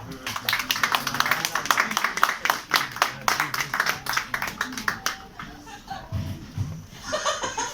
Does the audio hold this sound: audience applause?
yes